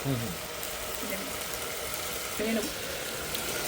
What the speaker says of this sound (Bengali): আমি মাঝখানে মাঝখানে 2-1 বার করে একটু নাড়ছি, যাতে নিচে লেগে না যায়।